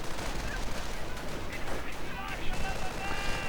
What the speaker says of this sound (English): Riflemen coming under quite a bit of fire from the Grenadiers